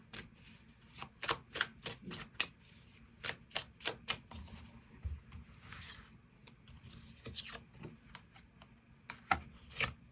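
Tarot cards shuffled and drawn during a love-fortune reading, giving quiet, irregular bursts of papery riffling and flicking with soft taps, close and alone with no talk.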